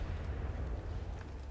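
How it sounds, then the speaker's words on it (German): An explosion in the Battlefield 3 campaign comes through as a sustained low rumble at moderate level with no sharp onset, rolling on throughout. "Da explodiert was."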